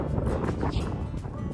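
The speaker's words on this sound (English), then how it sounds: "little windy, as you can probably tell" Strong outdoor wind buffeting a microphone outside a knife-making shop, a loud continuous roar with low rumble and gusty surges throughout, no voices.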